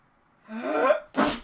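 A single loud, close sneeze rises from a sharp in-breath into an explosive burst, cutting into a relaxed podcast conversation.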